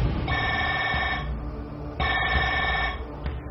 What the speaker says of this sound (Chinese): 手机突然响了起来